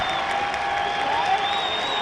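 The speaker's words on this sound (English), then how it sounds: "Hear that crowd." A crowd cheering and applauding at a high school football game, a dense, steady roar of voices from the stands with no break.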